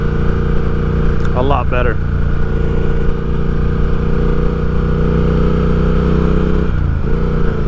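A 2019 Triumph Speed Twin's engine drones steadily and loud while riding, a continuous low twin-cylinder hum with a brief shift in pitch near the end, under a rider's short spoken remark and wind rush.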